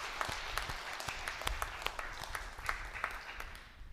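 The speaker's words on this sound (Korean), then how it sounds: "하나님 앞에 감사합니다 박수로 한번 영광 돌리시겠습니다" A church congregation applauds during a Sunday service, with dense, steady clapping from many hands that sounds a little distant and roomy and carries on evenly for several seconds.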